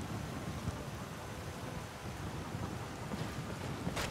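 Rain pours steadily in Skyrim as a dense, even hiss, with low thunder rumbling beneath it, alone and without talk.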